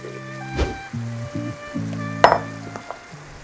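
Tomatoes and tomato paste sizzle as they fry in a pan for a Spanish zarzuela seafood stew, a steady close hiss with a few light clinks and stirring noises.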